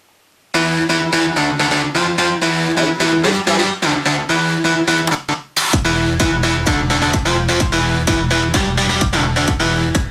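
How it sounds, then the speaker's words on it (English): Three layered synth bass sounds for a driving electronic lead track, a dense pulsing pattern that pauses briefly near the middle then returns with a deeper, heavier low end, loud and continuous without talking. "So when you play together all these 3 bass sounds"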